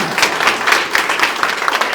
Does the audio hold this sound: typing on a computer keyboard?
no